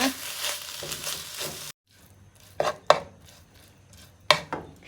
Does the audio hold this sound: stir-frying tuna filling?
yes